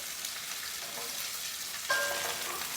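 Vegetables being stirred while they fry in a mix of oil and ghee for Indo-Chinese honey garlic paneer and Hakka noodles, with a steady close sizzle and a sharp rise in crackle partway through. No one speaks.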